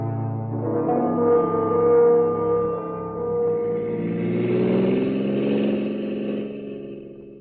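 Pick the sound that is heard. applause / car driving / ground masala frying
car driving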